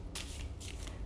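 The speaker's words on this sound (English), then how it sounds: "I'm just going to finish shuffling" Tarot cards being shuffled by hand in two quick riffling bursts, close and crisp, with a low steady hum beneath and no talking.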